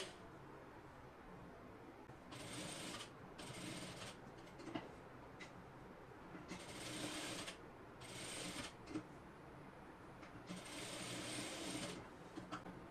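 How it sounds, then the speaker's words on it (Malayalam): A sewing machine runs along a garment neckline in several bursts of rapid mechanical stitching, each lasting about a second, separated by short quiet pauses, close and clear. "ഞാനിപ്പോ നെക്കിന്റെ അറ്റത്തൂടെയാണ് സ്റ്റിച്ച് ചെയ്ത് കൊടുക്കുന്നത്"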